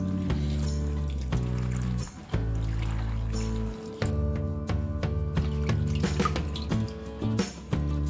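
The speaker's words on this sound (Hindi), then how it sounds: "हमने 2-3 बार करेलों को अच्छी तरह से धो लिया है।" Bitter gourds being washed in a vessel of water, with repeated splashing, dripping and trickling, a short pour, and a few hard knocks of the vessel close by, without any talking.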